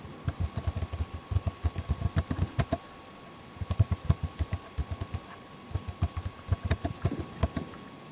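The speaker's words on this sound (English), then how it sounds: "it seems like Vijay typing" Rapid typing on a computer keyboard, bursts of close key clicks in an uneven rhythm with brief pauses, heard alone without talk.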